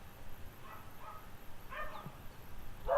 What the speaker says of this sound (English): just ignore the dogs